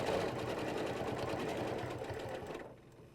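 A sewing machine quilts along a back-to-back ruler template, a fast, even stitching whir close by that runs steadily and then halts abruptly near the end, leaving quiet.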